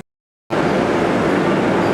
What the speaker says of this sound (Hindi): बनारस आगरा कैंट वंदे भारत का डिपार्चर हो गया है बनारस रेलवे स्टेशन से